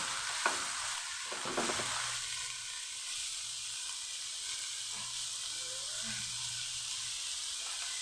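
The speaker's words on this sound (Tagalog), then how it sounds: "tuyo lang yung ating luto" Dried fish (tuyo) frying in a home kitchen pan, a steady loud sizzle and hiss throughout with a few stirring scrapes near the start, alone without talk.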